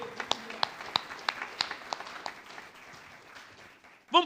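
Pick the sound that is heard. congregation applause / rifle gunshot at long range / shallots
congregation applause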